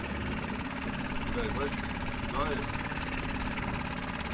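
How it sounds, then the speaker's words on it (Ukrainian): A small five-horsepower outboard motor on a fishing boat runs steadily nearby, a continuous buzzing drone with rhythmic throb, while faint voices speak briefly over it. "І перший запуск мотора в цьому сезоні."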